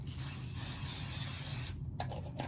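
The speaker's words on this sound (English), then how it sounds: "I am just going to use some 505 spray to kind of hold this down" A steady close hiss of 505 aerosol adhesive spray lasting about two seconds, holding down fabric for a patchwork frog, then a few soft taps and rustles.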